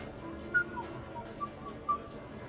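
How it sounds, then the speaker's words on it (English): A character in Mass Effect 3 whistles three short, faint high notes in quick succession over a quiet game ambience. "Are you whistling?"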